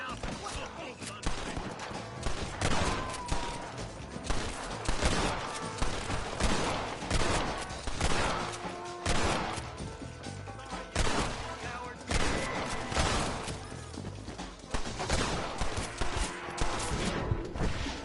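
Heavy gunfire from a shootout in the Western video game Red Dead Redemption, with rapid overlapping shots and bursts in dense volleys lasting the whole stretch, loud and close, with voices shouting underneath.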